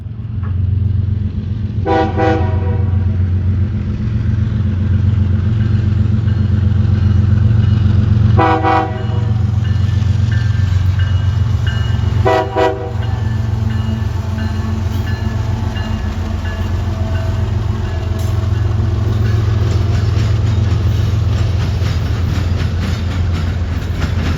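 A train passes a crossing near a station platform in Cordele, Georgia, with a loud, steady rumble throughout and three short horn blasts spaced across the first half.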